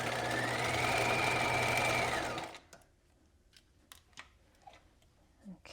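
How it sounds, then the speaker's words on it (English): A sewing machine runs steadily on its free arm for about two seconds, stitching a knit neckband in the round, then stops, leaving faint clicks and handling noises. "I'm using the free arm of my machine here so that I can sew in the round"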